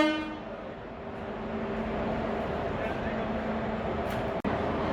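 A WAP-7 electric locomotive of Indian Railways, loco number 30500 from Visakhapatnam shed, East Coast Railway, rumbles steadily close by at Titlagarh, with a brief horn-like tone at the start and continuous rail noise throughout.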